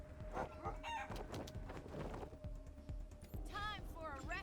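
Chickens in the video game Wasteland 3 cluck and crow repeatedly, a flock-like chorus of bird calls in the foreground over steady game sound.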